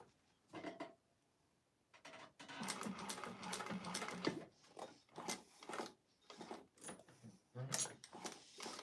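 A sewing machine set to a long stitch length runs in short bursts as it stitches through several thick layers of a clutch wallet, whirring starts and stops with brief pauses, close by.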